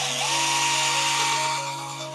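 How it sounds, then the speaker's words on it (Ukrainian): An electric drill bores a hole above a window while a curtain is being fitted, a steady close whining buzz with a constant motor hum that eases off toward the end. "Далі просверлюємо отвір зверху."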